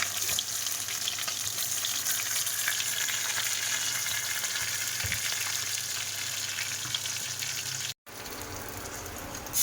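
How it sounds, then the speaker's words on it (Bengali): Pieces of freshly caught pond fish sizzle steadily in hot oil in a pan, a close, loud, unbroken frying hiss with faint crackles, briefly cut off near the end before resuming. "মাছটা কিন্তু খুব ভালো করে ভাজছি"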